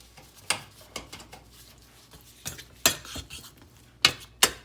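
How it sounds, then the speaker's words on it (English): A spoon scrapes and clinks against a pot of melting chocolate being stirred for dipping shortbread cookies, with a few sharp knocks scattered among softer scraping at close range. "I'm gonna stir it all up"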